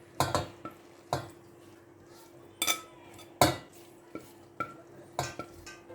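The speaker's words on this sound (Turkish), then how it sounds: "bir tencereye yağını süzdürdüğümüz patlıcanları döküyoruz" Oil-drained fried eggplants for eggplant moussaka are tipped into a pot, giving a close series of sharp, irregular clinks and scrapes of utensil against the pot, separated by short quiet gaps, with no talking.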